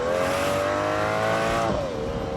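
Aston Martin DBS V12 driving hard with a loud, sustained engine roar that climbs steadily in pitch, then briefly dips and recovers as the revs shift near the end, no voices.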